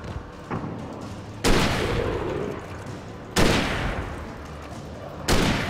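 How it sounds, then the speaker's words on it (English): Gunshots from the video game Alan Wake crack out in three loud, booming blasts a couple of seconds apart, each trailing off in a long echoing rumble. "Just shooting up Barry"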